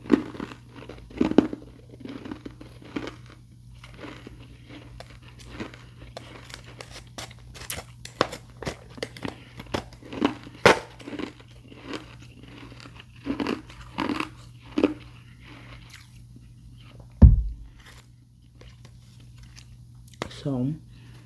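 Ice cubes and frost being bitten and crunched up close, irregular crisp crunches and chewing spread through the stretch, with a steady low hum underneath and soft whispering.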